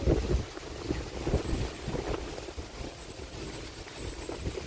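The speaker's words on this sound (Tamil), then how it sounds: "காற்று வேறு லெவலில் அடிக்குது நம்ம வீட்டில்" Strong wind gusting around a home during the Karthigai month, heavy buffeting rumble on the microphone rising and easing in gusts, with no speech.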